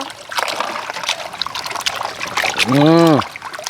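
Water trickles and splashes as it is poured, with a person talking over it and a brief sung or drawn-out voice near the end.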